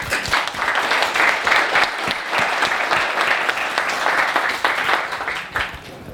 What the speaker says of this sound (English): an applause for our panelists